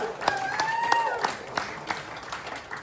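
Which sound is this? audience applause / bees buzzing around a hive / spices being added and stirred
audience applause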